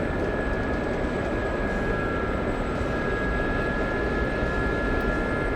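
A helicopter flies low over trees in the DCS combat flight simulator, its engine and rotor producing a steady, loud, unbroken drone with a faint whine above it.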